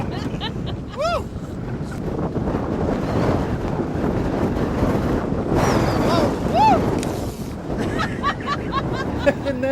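Strong wind of about 40 mph buffets the microphone on a lake while pike fishing from a boat, a steady broadband roar with water slapping nearby and brief voices and whoops over it.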